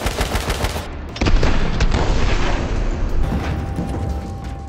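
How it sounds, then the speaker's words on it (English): A big explosion erupts in a video game, a loud sustained roar of booming blasts and rapid gunfire-like crackle filling the whole clip with no talk. "I really didn't think that explosion was gonna be that big"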